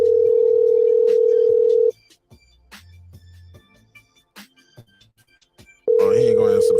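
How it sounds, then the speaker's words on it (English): Repeated telephone ringback tone on an unanswered call, a steady loud tone in long bursts separated by a quieter gap with faint background sounds. "Oh, he ain't gonna answer the phone."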